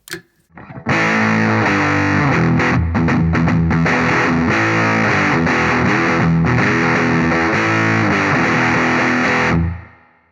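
Thick, fuzzy electric guitar through a hand-built TEFI Vintage Labs germanium fuzz pedal, playing sustained chords and short riffs, loud and saturated, ending on a held note that cuts off.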